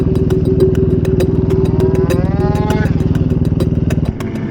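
A KTM SMR supermoto engine runs hard on a karting track with its rear brake dragging, a loud, close, rattling drone with a rising rev in the middle and a sudden drop near the end.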